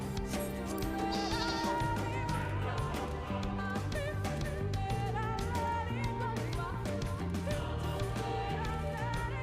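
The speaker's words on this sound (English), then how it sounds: "Poor little sheep." Sheep bleating in Final Fantasy XIV, repeated bleats over steady game music with tonal background layers, no talking.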